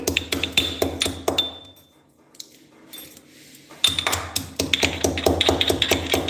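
Cardamom pods being coarsely ground at home for gulkand: rapid metallic clinking and tapping strikes, close and bright, with a brief quiet pause midway before the rhythmic pounding resumes.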